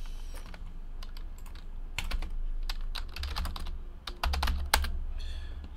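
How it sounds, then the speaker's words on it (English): Clacking keys on a computer keyboard come in quick bursts and short pauses, close and fairly clear over a low background hum. "Let's type in the hits"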